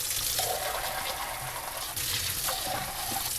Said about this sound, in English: Okay, just changing the water.